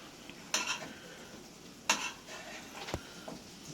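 A spoon scrapes and taps in a frying pan while food is basted, giving two sharp clinks and lighter scraping over a faint, steady sizzle.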